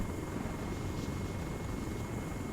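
A helicopter in the military video game ARMA 3, a steady, loud rotor and engine drone that holds even and unbroken throughout with no voices.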